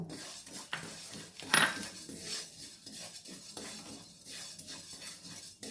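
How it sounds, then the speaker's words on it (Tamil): White sesame seeds dry roasting in a pan for a healthy laddu, with a steady scrape and clatter of a spoon stirring against the metal and a sharper clink near the middle, close and fairly loud. "இப்போ வெள்ளை எள்ளு பாருங்கள் அதையும் போட்டு வறுத்துக்கலாம்"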